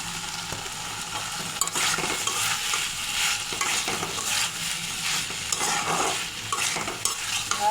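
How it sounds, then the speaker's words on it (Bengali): Potatoes and brinjal are stirred with spices in a pan, giving a continuous low sizzle broken by repeated scraping strokes of a spatula at an uneven, steady pace. "ভালো করে মিশিয়ে নেব মশলার সাথে"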